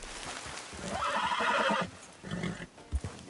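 A horse in Red Dead Redemption 2 whinnies loudly for about a second, then hooves clip-clop close by with a few sharp thuds and scuffs, no talking over it.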